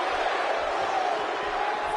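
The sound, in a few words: crowd cheering in a wrestling video game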